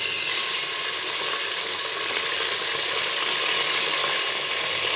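Half a kilo of mutton fries in hot oil with whole spices like cardamom, cloves and black pepper, giving a loud, steady, close sizzle that fills the whole stretch without pause and with no voices.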